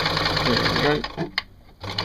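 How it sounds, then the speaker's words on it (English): A sewing machine stitches a T-shirt seam in a quick, steady whirring run that stops partway, with a person talking over it. "I'd better sew a bit more up and down first"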